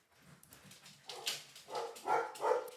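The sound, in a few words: dogs barking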